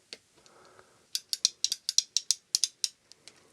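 A joystick mechanism being screwed down, a close, quick series of crisp ratcheting clicks, about a dozen in rapid irregular rhythm, after faint softer handling noise, with no talk.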